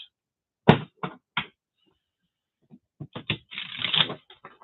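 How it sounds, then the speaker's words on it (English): A deck of playing cards is shuffled by hand, giving sharp riffling bursts in a quick cluster, then a pause and a longer ruffling run ending in soft taps, close by and clear. "I didn't like that shuffle. I want a clean break."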